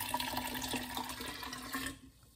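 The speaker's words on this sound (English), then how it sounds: "So I have my concentrate, my tea concentrate. It's 3 cups, so it goes in first." Warm tea concentrate for kombucha pours into a vessel in a steady splashing stream for about two seconds before stopping, close and fairly quiet.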